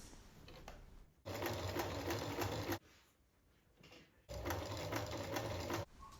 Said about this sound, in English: I will just top stitch this in place around the edges